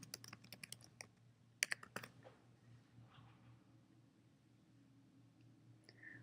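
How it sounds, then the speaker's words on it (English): Keys on a computer keyboard are typed in a quiet room, a few quick clusters of faint, crisp clicks in the first two seconds, then near silence with a low background hum. "Type in your username"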